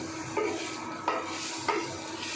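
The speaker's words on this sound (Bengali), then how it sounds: "ভালো করে চিংড়ি মাছের মাথাগুলোকে ধুয়ে তেলে দিয়ে ভালো করে ভেজে নিতে হবে" Prawn heads fry in hot oil in a pan, a steady close sizzle broken by three scraping stirs of a spatula at roughly even intervals, with no talking.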